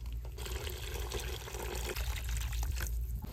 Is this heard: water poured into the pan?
yes